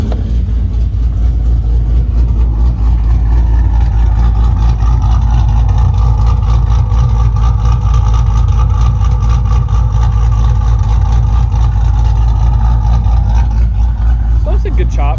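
A cammed 6.4 Hemi V8 idles with a choppy, loping rhythm, a loud continuous low rumble recorded up close, with someone speaking over it.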